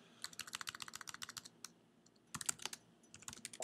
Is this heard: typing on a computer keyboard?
yes